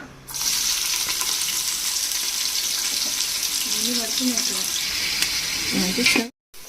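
Onions go into hot oil for mutton biryani and set off a loud, steady sizzle and frying hiss that runs unbroken for about six seconds, with brief stirring scrapes near the end before it cuts off.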